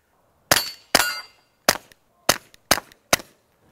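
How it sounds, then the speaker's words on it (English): A suppressed .22 bolt-action rifle with a Dead Air Mask HD silencer fires six sharp, dry cracks at uneven intervals, each with a brief decaying tail, loud and close with no talk. "not willing to risk my ears just to look good on video shooting a suppressed 22 silencer"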